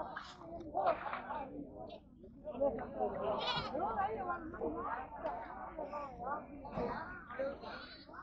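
Several goats for sale bleating, overlapping calls rising and falling continuously at moderate distance, mixed with people and children talking.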